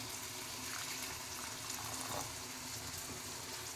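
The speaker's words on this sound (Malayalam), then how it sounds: "നമുക്കിനി ശകലം വെള്ളം ഒഴിക്കാം" Water poured into a mixer jar holding raw rice, a steady, soft continuous wash of flowing liquid heard close and alone throughout.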